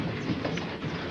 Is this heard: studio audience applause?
no